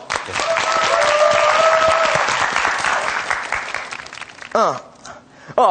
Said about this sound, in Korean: 그럼 박수를 한번 청해볼게요.